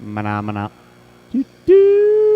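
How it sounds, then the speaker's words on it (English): A sustained electronic start tone sounds for drivers lined up at an RC car race, cutting in after a brief spoken word and a short blip, then holding steady and loud. "That's the sound of the tone, drivers."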